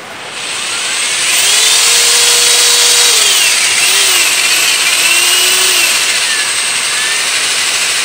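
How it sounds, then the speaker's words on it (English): Electric drill driving a homemade linear actuator, a loud steady motor whine that ramps up and holds with shifting pitch as the actuator extends, heard alone. "watch the drill as I pull the trigger"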